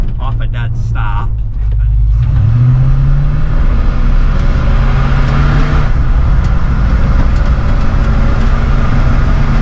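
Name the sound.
1975 Ford F250 with 390 FE engine accelerating from a stop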